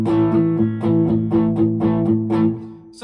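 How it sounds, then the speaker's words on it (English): Electric guitar chugging steadily on an A in even, palm-muted-sounding pulses over a sustained low tone, slightly overdriven, close and alone without talk. "chugging on an A."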